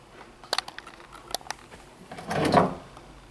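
Kitchen drawers in a resort bungalow on the water open and close, giving a string of sharp wooden knocks and clicks followed by a longer sliding rumble, close by and with no talking.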